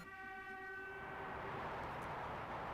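A bullet train in the Mario & Sonic at the Olympic Games Tokyo 2020 video game sounds a sustained multi-tone horn that fades into a rising rumble of passing rail cars, loud and continuous.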